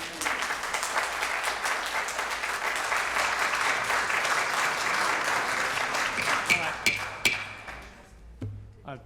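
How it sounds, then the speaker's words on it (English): Sustained audience applause fills a board meeting room, dense and steady for most of the stretch, then thinning into scattered claps and thuds near the end. "Please hold the applause."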